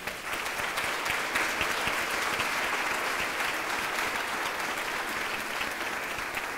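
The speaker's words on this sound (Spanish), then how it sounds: "Un aplauso, por favor." An audience at a gender-equality journal launch applauds steadily for several seconds, a dense, even wash of many hands clapping at moderate distance.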